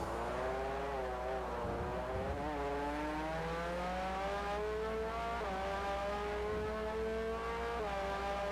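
Formula race car engine heard from on board in the racing game Formula Forza, a steady high-pitched whine rising and falling through gear changes as the car accelerates and brakes through corners, loud and continuous with no talk.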